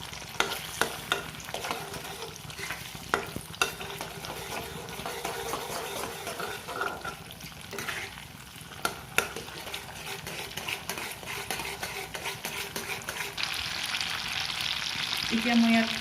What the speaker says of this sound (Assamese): ভালকৈ চচখিনি মই এতিয়া ভালকৈ অকণমান লৰাই দিছোঁ